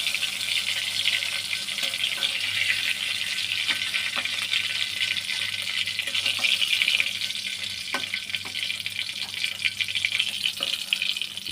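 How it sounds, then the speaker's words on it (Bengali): Pieces of rui fish frying in hot oil in a home kitchen, giving a steady, loud crackling hiss with scattered pops and occasional utensil clicks, continuous throughout. "দুই পিটি সুন্দর করে খুব ভালো করে ভাজছি"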